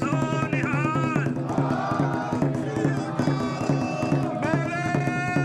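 A Sikh protest crowd in Perth calls out a rousing jakara chant in unison, sustained voices rising and falling together, with loud, dense group shouting and no individual speech standing out.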